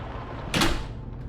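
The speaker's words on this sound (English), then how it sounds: "the front door opened and shut" A front door opens and shuts inside a house, heard as one sharp, broadband knock or thud midway through, fairly close, over a low steady background hum.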